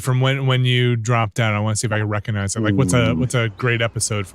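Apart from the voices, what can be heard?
None of the usual background noises is heard.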